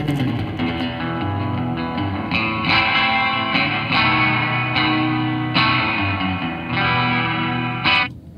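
An electric guitar played through the spring reverb setting of an Electro-Harmonix Holy Grail Max pedal rings out in sustained, distorted chords and notes that change every second or so, with a wash of reverb tails.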